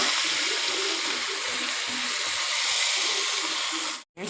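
Taro roots dropped into tomatoes frying in a pan give a steady loud sizzling hiss that fills the whole stretch, then cuts off briefly near the end.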